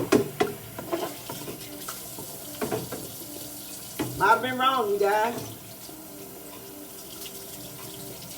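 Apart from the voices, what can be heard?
water running from a tap rinsing broccoli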